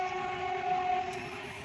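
A train rumbles past nearby with a steady, continuous roll of wheels and carriages, a constant mechanical drone filling the short stretch without any voices.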